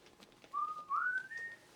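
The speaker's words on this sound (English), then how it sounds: "Whistling nonchalantly." A man whistles nonchalantly in a TV drama scene, a short, clear, gliding tune of a few sustained notes rising in pitch, quiet and alone.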